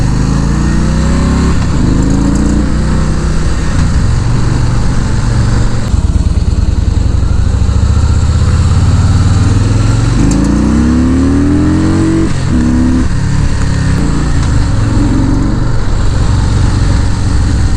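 Harley-Davidson Fat Boy motorcycle ridden hard on a road, a loud, continuous engine roar with repeated revving swells and gear changes, close and steady throughout with no talk.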